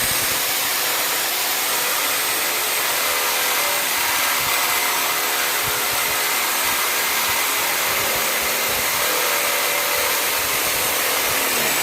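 A power tool cuts through the old exhaust pipe of a 1978 Honda Civic that sat for 26 years, giving a loud, steady, high-pitched grinding whine that runs without a break for the whole stretch.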